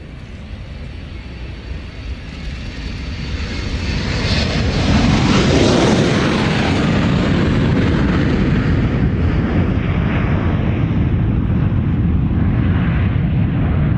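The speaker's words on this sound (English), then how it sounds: "Gorgeous 727, the oil spill aircraft" A Boeing 727 oil spill response aircraft rolls for departure at the Royal International Air Tattoo, its jet engines building from a distant roar into a loud, sustained broadband blast that stays steady to the end.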